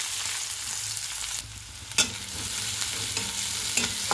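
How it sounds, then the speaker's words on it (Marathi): Finely chopped onion sautés in hot oil with mustard seeds, making a close, continuous sizzle with stirring scrapes and a sharp clack partway through, no voices present. "कांद्याला परतून घेऊ।"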